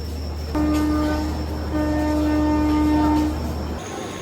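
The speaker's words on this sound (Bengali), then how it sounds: "আমাদের ট্রেন পৌঁছে দিল পুরী স্টেশনে" A steady low rumble of the Shalimar–Puri Superfast Express arriving at Puri station, with a sustained horn-like tone sounding in two long stretches before fading.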